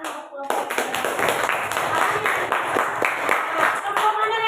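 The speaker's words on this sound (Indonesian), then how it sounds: "sekali lagi tepuk tangan untuk kelompok 3" A classroom full of people clapping together for a student group, dense and steady for several seconds after a brief spoken remark, close and lively.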